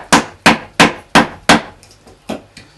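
Sharp chisel or hammer strikes chip away pallet wood for a stool, seven crisp impacts in a steady rhythm, each with a short ringing decay, loud and close with no talking.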